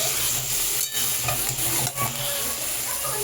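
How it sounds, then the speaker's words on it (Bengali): Lotte fish frying in hot oil, a loud, dense sizzle with brief dips as the pieces are gently stirred and turned in the pan. "এই মাছগুলোকে তেলের মধ্যে দিয়ে দেব। হালকা একটু নেড়ে নিয়ে আমি মাছগুলোকে"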